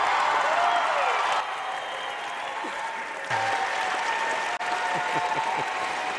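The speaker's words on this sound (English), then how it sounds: "The crowd loves this young archer, Bodie Turner." A large indoor crowd at the Vegas Shoot archery championship applauds an archer, sustained dense clapping that holds steady for several seconds, with a commentator's voice faintly underneath.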